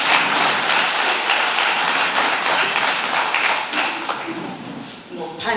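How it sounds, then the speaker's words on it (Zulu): A crowd at the KwaCele farming event gives a big round of applause, a busy, fairly loud patter of many hands that slowly thins toward the end, with voices mixed in. "Ngicela siyishaye ihlombe elikhulu"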